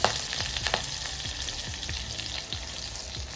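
Curry leaves sizzle and crackle steadily in hot oil in a pan for khaman dhokla tempering, with a few soft stirring scrapes and small pops.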